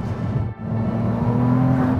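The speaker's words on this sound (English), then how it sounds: "You put your foot down, and my God, does the 296 pounce forward." A 2024 Ferrari 296 GTS, the plug-in hybrid V6 supercar, accelerates hard in fourth gear from a 50 km/h roll. The engine drones loud and steady close by, with one brief dip before surging on. No one speaks.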